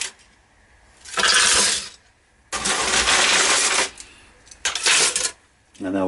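A handful of small gold-cornered BGA chips dropped into a container for gold recovery with copper chloride, in three separate bursts of bright clattering and tinkling, close and loud, with quiet pauses between pours.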